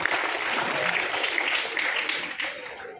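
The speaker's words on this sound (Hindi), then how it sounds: "तो इसलिए अपने लिए तालियां बजाओ पहले तो।" Students at a school awards ceremony applaud together, a broad, even wash of clapping that holds steady and then fades slightly at the end.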